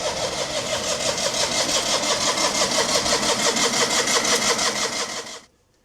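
A Panhard car engine cranks and catches after choke and fuel pumping, settling into a loud, steady rapid running rhythm close by for about five seconds before cutting off abruptly.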